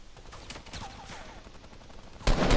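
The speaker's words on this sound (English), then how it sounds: "Keep firing, keep firing if you can." Gunfire in the video game Fortnite during a duos match, rapid game shots under steady background noise ending in a loud burst of blasts.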